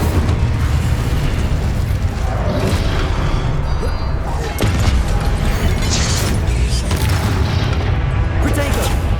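An Incendio fire spell goes off in Hogwarts Legacy, a burst of roaring flames. Explosive whooshes and crackles layer into a continuous loud barrage of combat sounds.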